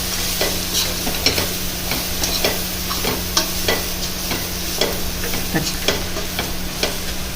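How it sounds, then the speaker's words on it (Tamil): Steady sizzling of chili powder frying in a hot pan, with a spoon scraping and stirring at a regular pace throughout. "இதை வந்து கொஞ்சம் வதக்கிக்கலாம் மிளகாத்தூள்"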